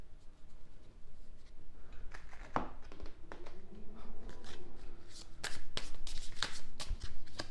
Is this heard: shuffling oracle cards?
yes